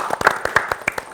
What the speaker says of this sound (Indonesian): Tepuk tangan dong buat Mas Yusuf